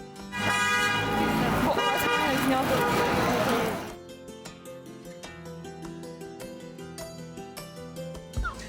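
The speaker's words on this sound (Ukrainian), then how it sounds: "а машини, що проїжджали повз, гучно сигналили, висловлюючи свою підтримку" Cars passing a street march in Edmonton honk their horns loudly together in a dense blare for about three seconds, then the horns stop, leaving quieter scattered sounds and voices.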